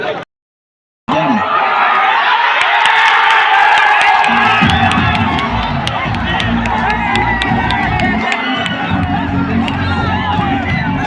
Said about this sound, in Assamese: RCB ছাপোৰ্টাৰৰ কাৰণে এবাৰ হাত চাপৰি হ'ব লাগে